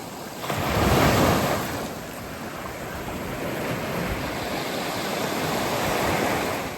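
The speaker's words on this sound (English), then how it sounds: "What an amazing beach. Wineglass Bay Beach." Surf rolling onto the sand at Wineglass Bay Beach in Tasmania: a loud, continuous broadband wash of breaking waves swelling near the start and then holding steady, with some wind rumble and no talking.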